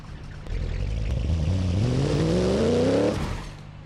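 An engine in the BeamNG Drive driving game revs up, its pitch climbing steadily over a few seconds before cutting off, loud and close with no talking.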